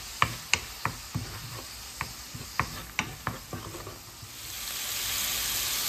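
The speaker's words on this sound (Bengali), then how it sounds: "এখন আমি মশলাটাকে ভালোভাবে কষিয়ে নিচ্ছি।" Spices (turmeric and cumin powder) frying in oil for a lotus root curry, a soft steady sizzle with a series of sharp, distinct clicks and taps of a spoon against the pan, ending in a louder hiss.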